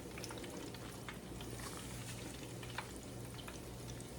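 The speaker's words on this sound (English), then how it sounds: "I am frying salmon, so the grease is definitely popping" Salmon frying in popping grease in a home kitchen, a steady broadband sizzle with scattered small crackles and pops running continuously at moderate, close range, no voices.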